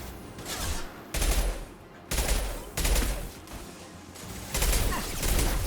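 Gunfire in the video game Mass Effect Legendary Edition: loud bursts of rapid shots roughly every second, separated by brief quieter gaps.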